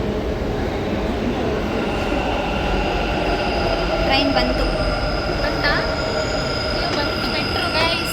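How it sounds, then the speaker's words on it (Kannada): A metro train pulls into a station, a loud rumble with squealing wheels and rising tonal whines from the motors, people talking around it. "ಟ್ರೈನ್ ಬಂತು."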